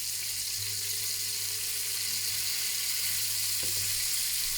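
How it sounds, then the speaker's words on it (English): A steady, bright sizzle of steak frying in a hot pan, with a low hum beneath and a faint clink partway through. "a little bit louder, because I'm missing the sizzling sound"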